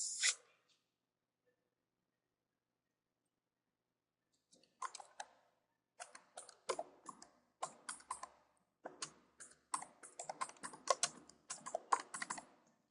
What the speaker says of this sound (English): we want to type a name for this group policy object